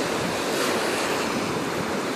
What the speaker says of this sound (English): Decided to stay and listen to the waves of the Gulf of Mexico.